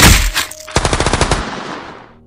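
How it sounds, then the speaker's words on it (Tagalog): Gunshots as a sound effect in a narrated Tagalog story: one heavy blast followed by a rapid burst of about a dozen shots fading into a reverberant tail, loud and close. "putok ng baril"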